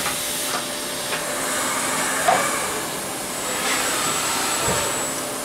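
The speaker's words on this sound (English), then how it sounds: "And now I'll start the machine." RMC V40 CNC mill cutting an Excelsior motorcycle cylinder sleeve, a steady broadband hiss and whir with faint tonal hum and occasional light ticks, moderately close and without speech.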